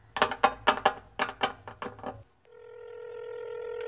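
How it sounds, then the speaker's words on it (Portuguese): Mobile phone dialing tones, about nine short, bright beeps in quick succession, followed by a steady ringing tone that carries on to the end. The sound is fairly loud and close, with no talking. "Mas antes eu vou ligar para as meninas."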